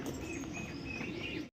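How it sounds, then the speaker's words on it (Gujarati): Pigeons of several colourful breeds in an aviary coo and chirp faintly and continuously in a short burst with no talking. "બધો અલગ અલગ જાતનો કબૂતર, કલર વાળો છે"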